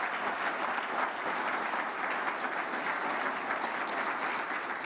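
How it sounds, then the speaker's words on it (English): Audience applause at a Teacher of the Year awards breakfast, a steady dense clapping from a crowd that holds at an even level throughout without any voices over it. "let's give them a huge round of applause too"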